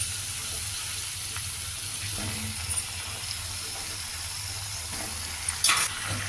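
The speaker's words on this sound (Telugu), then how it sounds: "నూనె వేడెక్కాక ఈ కాకరకాయ ముక్కలు వేసుకోవాలి" Squeezed bitter gourd pieces fry in two or three spoons of hot oil in a home kitchen pan, a faint steady sizzle with a couple of brief clinks, no talk.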